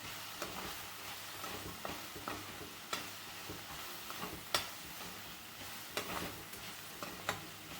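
Hakka noodles being mixed with noodle masala in a pan, a low sizzle underneath irregular scraping and clicking strokes of a utensil against the pan, moderately quiet and without voices.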